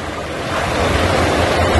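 Floodwater surging in a wave during a severe flood in Buryatia, a steady, loud rushing wash of water that swells slightly, with wind buffeting the microphone.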